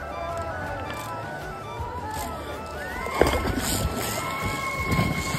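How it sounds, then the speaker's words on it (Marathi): A boat moves across open water, carrying a steady wash of low engine and water noise with sloshing swells; voices talk over it, and a brief knock sounds midway. "हाँ सर ये बोट उधर जाएगा ना"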